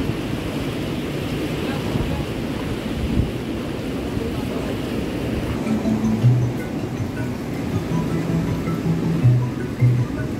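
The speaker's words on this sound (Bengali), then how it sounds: "একটার পর একটা ঢেউ আসছে অনবরত" Ocean waves rolling in on Arambol beach in Goa, a continuous low rumble and wash of surf mixed with wind buffeting the microphone, with no one talking.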